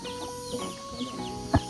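Chickens on a mountainside farm give a few soft clucks against a quiet outdoor background, ending in one brief louder squawk close by.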